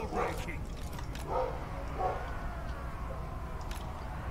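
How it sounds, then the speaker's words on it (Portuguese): A dog barks three times, at the start, in the middle and near the end, at moderate distance over a steady background hum with faint voices. "começou a loucura desse cachorro"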